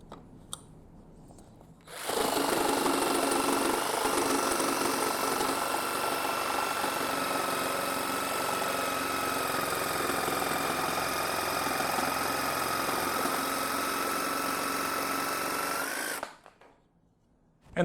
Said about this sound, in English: Then just run your jigsaw down the edge.